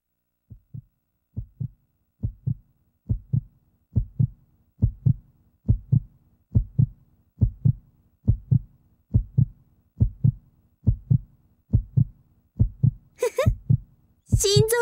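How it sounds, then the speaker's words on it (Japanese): Heartbeat sound effect from the PS2 video game Akai Ito: a steady series of loud, low double-thump beats repeating about once per second, with a brief burst of another sound near the end. "心臓がドキドキいってるわよ。"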